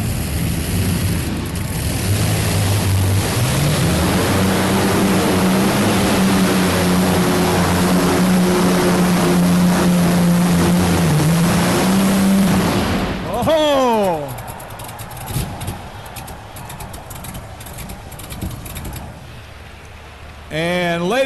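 An Allison aircraft engine on a pulling tractor roars loud and sustained across the floor of Freedom Hall in Louisville, then cuts out abruptly into crowd noise with an announcer talking over it.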